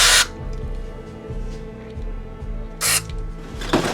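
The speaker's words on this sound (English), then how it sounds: "I guess I'll give that a little spray." Two short hissing bursts of aerosol spray onto a Yamaha SuperJam 800's input jack, the first at the start and another near the end, with quiet background hum between.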